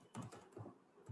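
Keystrokes on a computer keyboard as a file name is entered into Tally accounting software, a few quick soft clicks grouped in short bursts with pauses between, quiet and close.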